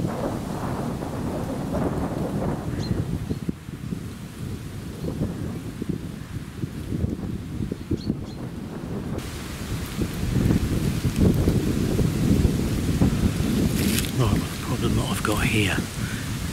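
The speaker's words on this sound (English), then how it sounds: "We've got a storm coming in and that wind's picking up." Strong wind sweeps across an open field lined with hedges ahead of an incoming storm, a continuous rushing roar that swells louder partway through, with no speech.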